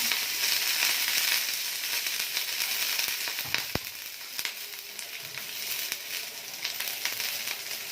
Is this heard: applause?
no